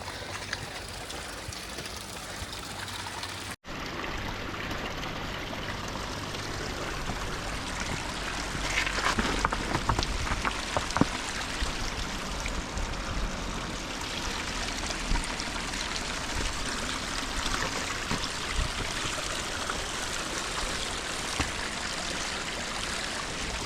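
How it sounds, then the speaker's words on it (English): A mountain stream of glacier meltwater rushes steadily for the whole stretch, a dense, loud, unbroken wash of flowing water heard up close, with one brief dropout near the start. "So we have to literally hike this stream, fresh water from glaciers."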